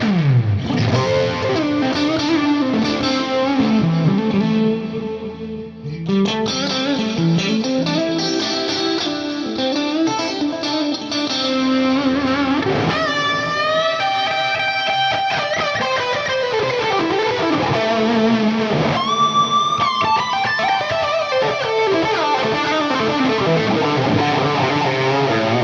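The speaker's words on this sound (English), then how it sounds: "I have a H3000 type of micropitch going on there. And I also have a circular delay and a reverb there." Electric guitar run through a Fractal Audio FM9 floor modeler with H3000-style micropitch, circular delay and reverb, playing distorted 80s-style chords and lead lines, loud and sustained with wide shimmering repeats and no talking.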